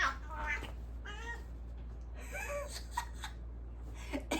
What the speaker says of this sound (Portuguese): minha gata tá aqui, eu não sei se vai dar pra ver